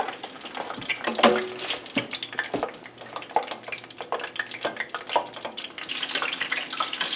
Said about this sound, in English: We're just going to brown them in here.